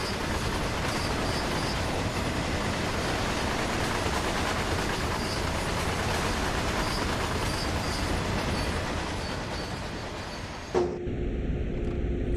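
In a rail operations video game, a freight train runs steadily with a continuous rumble and clatter of wagons, then the sound cuts off abruptly near the end and only a quieter hum is left.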